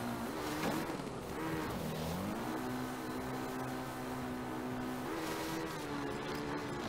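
A vehicle in the video game Zelda: Tears of the Kingdom pops a wheelie, giving off a steady motorized whir whose pitch dips, then rises and holds, running close and continuous with no one talking.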